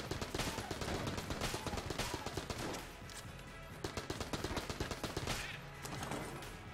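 Bouncy bullets fired in rapid, rhythmic bursts in the video game Enter the Gungeon, loud, close shots in steady volleys with a brief lull midway, over game music.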